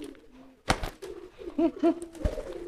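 A racing pigeon coos during courtship, a couple of low, rolling coos close by after a sharp flutter-like burst, with a few soft rustles between.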